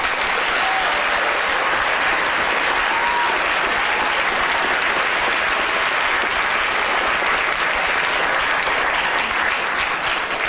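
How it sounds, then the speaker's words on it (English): Audience at a lecture in Cheltenham applauding, a dense, steady clapping that carries on evenly for about ten seconds with no talk over it. "A big round of applause, everyone."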